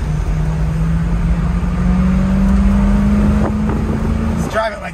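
A 1977 Pontiac Trans Am cruising at speed, its engine a steady low drone with a tone that slowly rises as it accelerates, loud and close throughout, with a brief rattle near the end.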